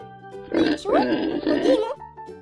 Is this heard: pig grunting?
yes